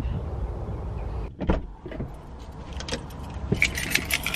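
A bunch of house keys jangles and clinks close by, with bright metallic rattles building toward the end over a low rumbling background and a few thuds, no talk heard.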